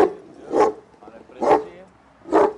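A Kangal dog barks three times at steady intervals of about a second, deep and close with loud, full barks and quieter pauses between them.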